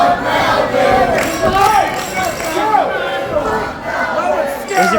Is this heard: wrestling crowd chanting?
yes